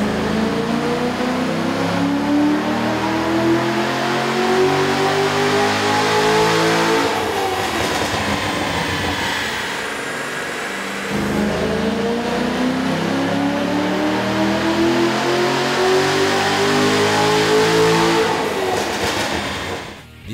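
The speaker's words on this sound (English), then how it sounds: "we ran the vehicle on the dyno to test the sound comparison versus the stock intake" A Corvette Z06 with a 7.0L V8 and an aftermarket air intake revs hard on a dyno. The loud engine climbs steadily in pitch, drops back, then climbs again in a second long pull.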